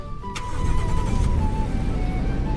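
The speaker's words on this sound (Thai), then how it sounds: "เราก็จะได้รถไถมา รถไถเกี่ยวข้าว" Engine of a rice-harvesting tractor in the Roblox game Generic Roleplay Gaem, a steady mid-pitched motor drone that starts up and runs continuously, close and fairly loud, with no talking.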